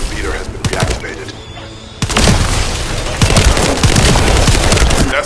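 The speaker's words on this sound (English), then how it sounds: "That stopped the gunfire." Loud bursts of rapid gunfire crackle and thud in the video game The First Descendant on PS5, pausing briefly before resuming denser and heavier, with sharp synthetic shots throughout.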